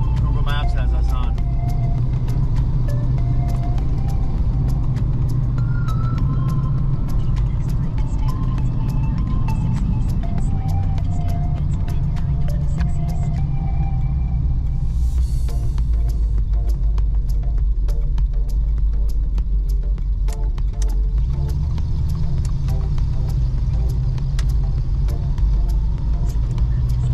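A big block Dodge Ramcharger cruises along a country road, its deep engine drone and tire rumble steady and close throughout, while people talk over it inside the cab.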